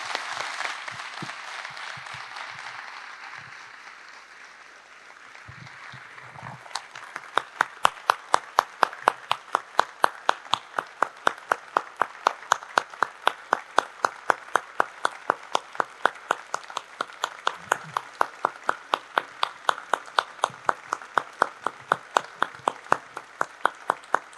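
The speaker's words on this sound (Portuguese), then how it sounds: "uma salva de palmas para Demetrio Anastasakis" Conference audience at the closing session of the Brazilian Congress of Architects in Porto Alegre applauds in tribute to an architect, first as a soft scattered wash, then swelling into loud, steady rhythmic clapping in unison that keeps going.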